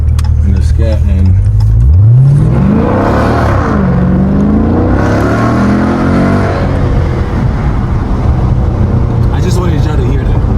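A Dodge Challenger 392 Scat Pack with a factory X-pipe and a K&N cold air intake revs hard nearby, its engine note sweeping up and settling back, with faint voices underneath.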